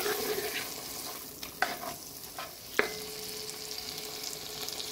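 Something sautés in a huge pot for a steamed barracuda fish medley, a steady sizzle with a couple of sharp utensil clanks against the pot and no talking.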